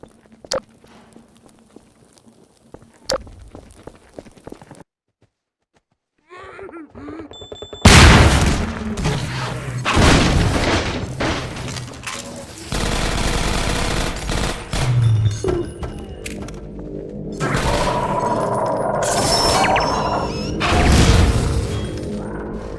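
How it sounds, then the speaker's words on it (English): In a Half-Life 2 Episode 1 urban fight, a loud explosion bursts out after a quiet stretch, followed by sustained rattling gunfire, crashes and footsteps, with some speech mixed in. "This explosion permanently seals the cafe door"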